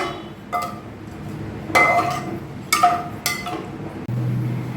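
A spoon stirs pulao rice with ginger paste in a pressure cooker pot, giving a few sharp, separated metallic clinks against the pot, followed by a steady low hum near the end.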